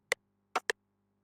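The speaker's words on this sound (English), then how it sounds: "I use the rim." Rim drum sample in an FL Studio beat, three short sharp clicks close together over a faint low hum, with no talking.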